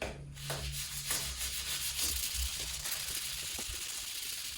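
Close, steady rubbing of sandpaper worked by hand on a Foxbody Mustang quarter glass, in repeated scraping strokes with no talking.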